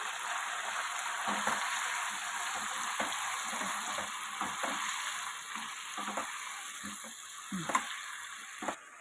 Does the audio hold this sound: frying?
yes